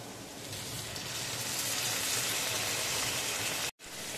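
Hot water poured into sizzling mixed vegetables and spices in oil sets off a loud, dense, steady hiss that fills the whole stretch, cutting out abruptly for a split second near the end before resuming.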